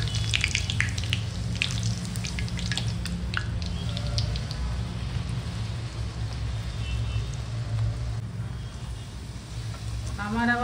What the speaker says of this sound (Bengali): এই এখন গরম গরম লুচি ভাজা হচ্ছে।